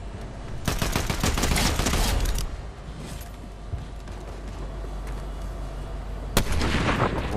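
Loud bursts of rapid video game gunfire crackle for a couple of seconds, then sporadic single shots ring out over a low rumbling background.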